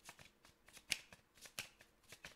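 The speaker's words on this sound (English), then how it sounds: "Oh, loud shuffle." Tarot cards being shuffled in quick bursts, with soft riffling and one or two louder snaps standing out, close and fairly quiet.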